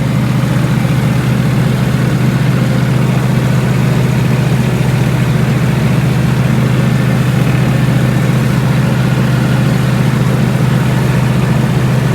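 A tractor engine runs at a steady idle, a loud, continuous low drone that stays even throughout without speech.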